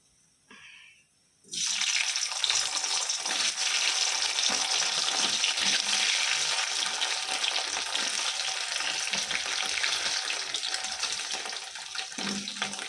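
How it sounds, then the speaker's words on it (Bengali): Paneer hits a hot pan and bursts into a loud, sustained sizzle after a brief quiet moment, then crackles steadily and fades only slightly toward the end. "তো আমি পনিরটা ভেজে নিই একটুখানি।"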